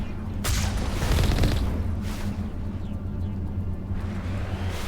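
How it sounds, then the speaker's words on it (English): A probe blows up in the game Mass Effect, a loud booming blast near the start that rolls into a long low rumble, with a couple of fainter bursts after it. "Oh, and then the probe exploded."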